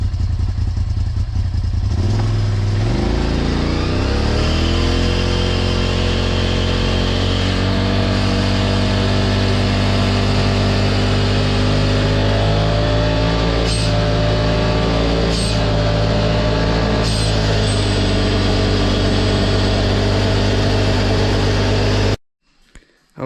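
A Polaris RZR XP 1000 side-by-side engine drones loudly and closely on a trail drive, its pitch climbing as it accelerates early on, then holding a steady rumble with occasional clatter before cutting off abruptly.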